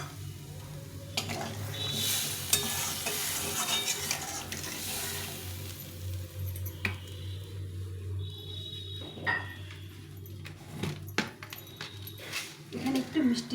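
Masala for aloo dum sizzles and scrapes in the pan as boiled water is poured in, with stirring knocks and clatter throughout and a voice talking over it.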